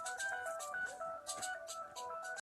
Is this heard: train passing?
no